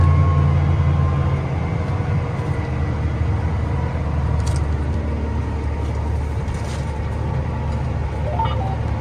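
Farm tractor engine labouring while pulling a Vaderstad carrier down a tram line in a field, with wheel slip; a steady, loud low drone runs throughout without letup.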